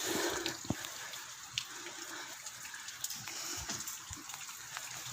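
Heavy rain pours down steadily outdoors on a cold, wet day near a house driveway, a dense continuous hiss with scattered louder drips and splashes close by, no talking.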